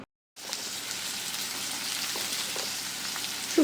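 Thinly sliced papaya fries in oil in a wok, a steady close sizzle that starts after a brief silence and continues evenly, ending with a faint knock.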